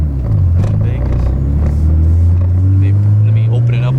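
A right-hand-drive Mazda RX7 with a plated clutch pulls away and builds speed, its engine droning steadily and rising in pitch, loud and close inside the cabin with a voice over it.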